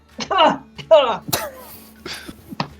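A sneeze heard during a group conversation, a loud sharp burst following throat-clearing and coughing sounds, with voices nearby.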